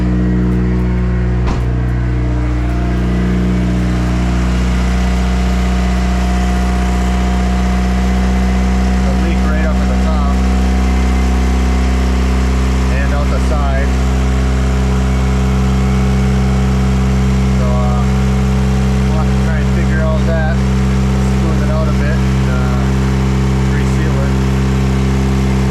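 A turbocharged car engine runs continuously at a steady idle close by, a dense constant drone with faint rattles and small pitch wobbles throughout.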